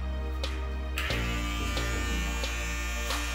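An electric razor buzzes steadily while trimming and shaping a beard and mustache, with short scraping bursts as the blades pass over the hair; close and continuous, with no talking.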